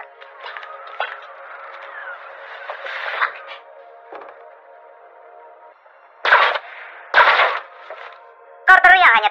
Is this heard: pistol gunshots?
yes